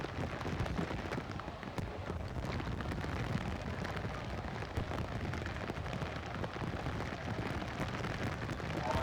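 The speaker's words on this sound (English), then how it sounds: "So here we go as the rain continues to come heavier and heavier tonight." Heavy rain pours steadily over a night high school football game, a dense, unbroken hiss of falling water that fills the whole stretch at constant loudness, with no clear voices above it.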